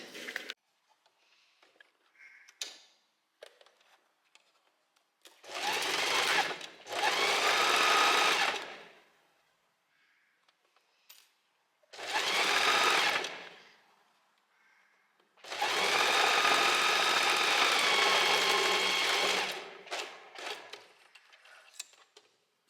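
A sewing machine stitches a blouse in four separate bursts of steady, rapid whirring, with quiet pauses and small handling clicks between runs.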